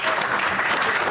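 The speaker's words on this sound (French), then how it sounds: "Bon, on va l'applaudir, si vous voulez bien l'accompagner." Festival audience in a cinema hall applauding the festival director on opening night, a brief burst of dense, even clapping close and loud throughout.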